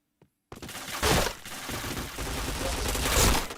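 A shooting video game rattles out a dense burst of gunfire after a brief pause. Rapid shots run continuously for about three seconds, loud and close, with a faint voice briefly underneath.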